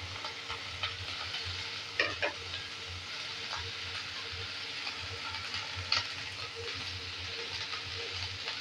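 Drumstick leaves fry in a pan over a high flame with a dense, even sizzle and an occasional spatula knock, close up and with no talking.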